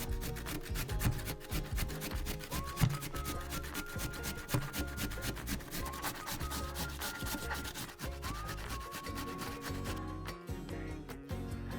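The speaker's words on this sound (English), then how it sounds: "begin by peeling, then grating the carrot" Carrot being peeled and grated for apple and carrot pikelets, a steady scraping rasp repeated in close, even strokes over most of the stretch with no speech.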